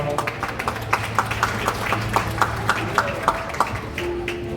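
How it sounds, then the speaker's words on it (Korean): Wedding guests clapping in a hall after the officiant's call, steady scattered applause with sharp individual claps at an even pace, fairly near and continuous. "여러분 다시 한번 박수 부탁드리겠습니다."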